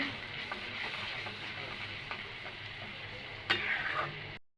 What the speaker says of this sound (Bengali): মশলায় তেল উঠে গেছে মশলাটা কষিয়ে নিছি